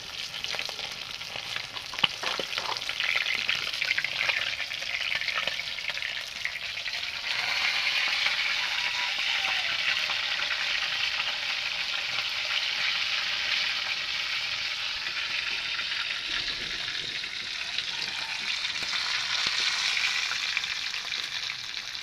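Fresh river fish pieces sizzle steadily in hot oil while frying until red-brown, a constant close crackle and hiss running evenly throughout, with no talking.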